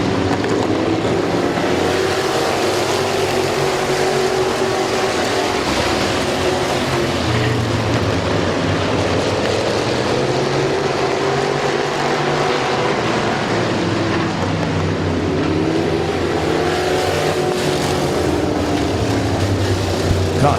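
Race cars at Midvale Speedway restart on the green flag: a loud, continuous, dense roar of engines that swells and sustains throughout.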